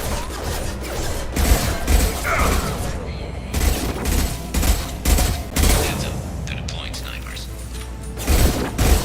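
Sniper rifle shots and gunfire crack through a Mass Effect 2 firefight, with repeated sharp bursts and mechanical clatter layered over busy combat noise and in-game voices talking.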